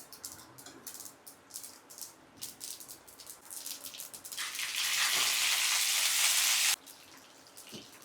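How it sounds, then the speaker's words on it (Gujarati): Mustard seeds hit hot oil for upma, crackling in quick bursts at first, then breaking into a loud, dense sizzle that holds for a couple of seconds before dying back to a softer popping, close up with no voices. "હવે આપણે થોડીક રાઈ નાખીશું અંદર"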